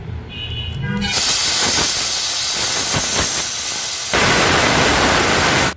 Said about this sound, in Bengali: মটর আর আলুটা প্রেসার কুকারে সেদ্ধ করে আনবো। 3টা সিটি মেরে আনবো।